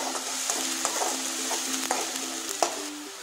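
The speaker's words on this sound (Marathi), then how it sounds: "आता आपण त्यामध्ये कांद्याची पेस्ट टाकून घेऊया। कांदा चांगला परतून घ्यायचा।" Onion paste frying in hot oil for a vegetable biryani, a steady broadband sizzle with occasional stirring clicks and scrapes, close and continuous with no voices.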